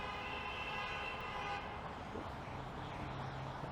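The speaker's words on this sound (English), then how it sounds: "Some honking action." Sustained horn tones sound over dense Toronto street traffic, a steady honk dominating the first moments before fading, then a lower horn note joining later amid the continuous road rumble.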